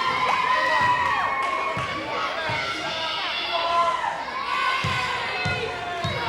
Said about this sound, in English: And now the Port Huron High crowd getting into the ball game.